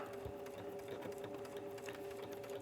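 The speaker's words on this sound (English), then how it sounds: "So we're going to sew diagonally across." A domestic sewing machine runs steadily while stitching diagonally across fabric, a close continuous whirring hum with a fast mechanical rhythm and no pauses.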